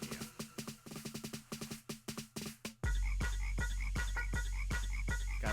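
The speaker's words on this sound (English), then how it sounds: "Gotta listen to the frog. Just listen to it go." A frog croaking in a music video, repeated rhythmic croaks in steady pulses, first over a thinner backing and then set against loud, heavy, booming music.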